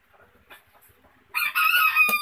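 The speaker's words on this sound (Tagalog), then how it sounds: "Marami kasi manok dito" A rooster crows loudly and close by in the second half, preceded by faint background murmurs and scattered quiet sounds, in the Philippines.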